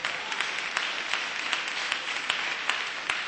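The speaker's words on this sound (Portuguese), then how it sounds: "Dá uma salva de palmas para Jesus." A church congregation applauds during a sermon, a steady wash of many hands clapping together at moderate distance, sustained without a break and with no talk over it.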